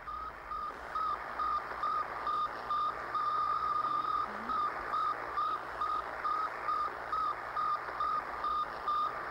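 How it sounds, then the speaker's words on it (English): Radio signal from the Soviet Sputnik satellite: a regular train of short, evenly spaced electronic beeps pulsing over faint static hiss, steady and moderately quiet. "the radio signal transmitted by the Soviet Sputnik"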